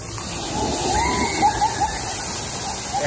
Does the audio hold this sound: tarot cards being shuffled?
no